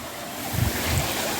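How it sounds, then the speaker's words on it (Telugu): Spring water pours steadily at the Kotilingala temple in Adilabad, a continuous close wash of flowing water with a slight low swell midway and no voices. "చూడండి నీళ్ళు ఇలా వస్తున్నాయి చూడండి"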